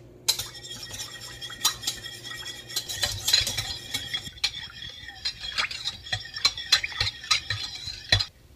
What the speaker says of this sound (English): I'm just going to mix this all up with a whisk